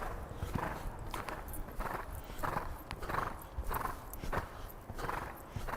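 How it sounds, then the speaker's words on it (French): A horse canters in a riding lesson, hooves clip-clopping in a steady rolling rhythm at middle distance, with a faint whinny and a soft low background. "on continue le galop"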